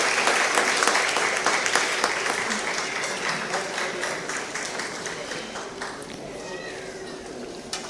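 An audience at an award ceremony for eminent citizens at a festival applauds an honoree, with steady clapping running throughout and slowly fading, with some vocal sounds mixed in.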